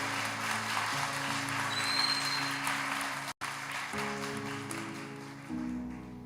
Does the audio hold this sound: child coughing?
no